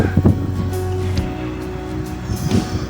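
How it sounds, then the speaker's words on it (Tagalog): Strong wind rushing and buffeting against the microphone, with low rumbling gusts and flapping noise. "lumalakas na naman yung hangin"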